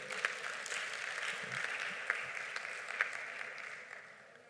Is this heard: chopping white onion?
no